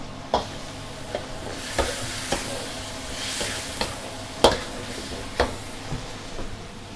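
Beef stir-fried with holy basil, oyster sauce, sugar and light soy sauce sizzles loudly in a hot pan, with a steady hiss broken by repeated sharp scrapes and clacks of a spatula stirring, close and without talk.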